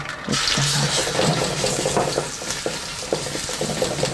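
Garlic sizzles as it is stir-fried in perilla oil in a heated pan, a steady soft crackle with faint scraping of a utensil, heard alone without talk.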